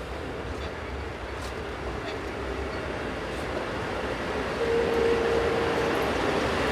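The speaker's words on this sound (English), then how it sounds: "Arriving with westbound empty cement tanks is locomotive number 706." Locomotive number 706 hauls a westbound train of empty cement tank wagons on a Swiss line, a steady rolling rumble of wheels on rail with a faint squeal building as it draws nearer.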